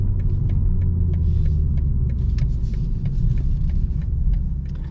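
A 2025 BMW M440i engine giving a steady low rumble while driving up through a parking garage, heard from inside the car, with faint ticking and rattles above it and no talk.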